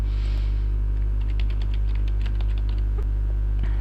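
Root password keyed in on a computer keyboard, a scattered run of soft key clicks over a steady low electrical hum, no talking.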